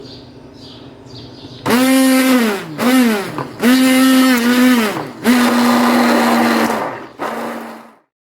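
A blender whirs loudly in several bursts, blending mango puree with full cream; the motor pitch rises and falls between pulses, with short pauses, then spins down to silence.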